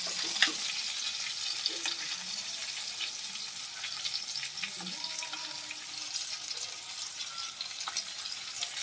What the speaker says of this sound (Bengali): মাছটা আমি একটু লাল লাল করে ভেজে নেব